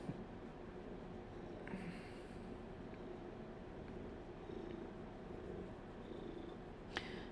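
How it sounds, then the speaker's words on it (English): A cat purrs steadily and powerfully up close, a continuous low rumbling flutter with faint room noise and a couple of small clicks. "Her purr is quite powerful."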